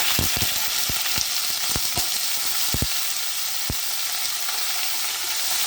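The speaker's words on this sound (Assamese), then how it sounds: "এইখিনি অলপ ভাজি ল'ম, অলপ ৰঙচুৱা হোৱাকৈ ভাজি ল'ম।" Steady sizzling of onions frying in a hot pan with dried chilies and bay leaves, with a few sharp clicks of a utensil stirring early on.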